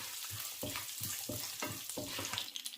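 Urad dal fries in hot sesame oil with popped mustard seeds for lemon rice, a steady bright sizzle broken by several soft stirring scrapes in the pan.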